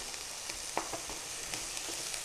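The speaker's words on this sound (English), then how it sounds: "Saute well." Boiled kabuli chickpeas sauté in a pan with a soft, quiet sizzle and a few light spatula taps and scrapes over a brief moment.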